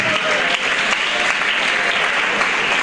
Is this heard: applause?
yes